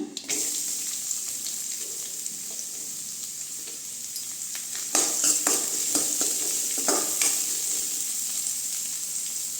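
Onions sautéing in hot oil with cinnamon and cloves for tomato rice give a steady, close sizzle throughout, with a few louder stirring scrapes partway through and no talking.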